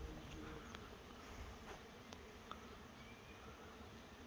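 A honey bee swarm pours out of a box outdoors, a continuous faint buzzing hum of many bees filling the air, with a few individual bees passing close.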